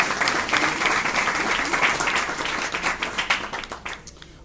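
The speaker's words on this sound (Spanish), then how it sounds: "Démosle un fuerte aplauso a Leonel." An audience applauds steadily at an indoor talk on confined-space measurement, dense close clapping that holds for a few seconds and then thins and fades out.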